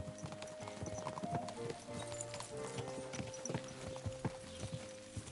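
Horse hooves gallop in the medieval game Kingdom Come Deliverance 2, a quick steady clip-clop close by over a low, busy background of music and tones.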